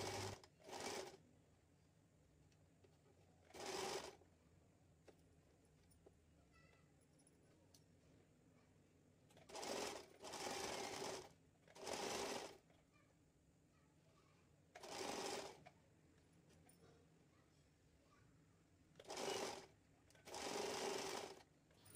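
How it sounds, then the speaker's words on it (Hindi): A sewing machine stitches saree blouse fabric in several separate short bursts of fast mechanical rattling, each a few seconds long, with quiet gaps between them. "फिर इसके बाद नीडल को उठा के हमें फिर यहाँ से सिलाई लगानी है।"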